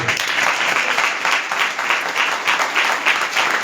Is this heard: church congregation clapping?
yes